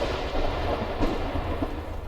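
A lightning strike in the military game ArmA 3 gives a rolling, rumbling thunder that swells and fades over a couple of seconds, heard alone without voices.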